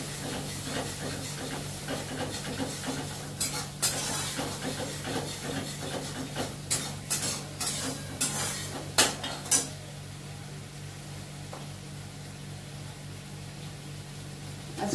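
Ridge gourd fritters frying in a pan, a low steady sizzle and hiss under a cluster of sharp metal clinks and scrapes of a spatula against the pan midway, then quieter frying.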